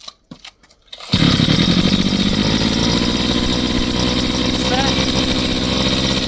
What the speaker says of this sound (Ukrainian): Вмикаємо запалювання, далі переводимо дросель в відкрите положення, запускаємо.